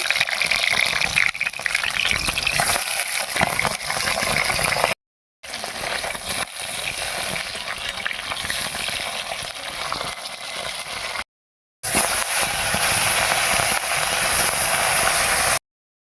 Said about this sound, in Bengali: রুই মাছের মাথা ভেজে নিচ্ছি